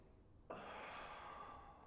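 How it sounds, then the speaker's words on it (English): A big, breathy exhale starts abruptly and continues steadily during a lat hang breathing drill for powerlifting mobility, heard close and alone. "Nice big air in, and then a nice big air out."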